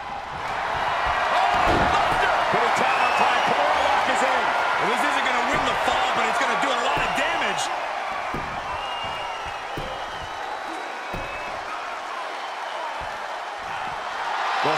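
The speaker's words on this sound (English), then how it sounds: "Sound of this crowd is deafening, and he's asking for more." A loud, roaring arena crowd cheers continuously at a steel cage tornado tag team wrestling match in the WWE 2K22 video game, with a commentator's voice talking over the noise throughout.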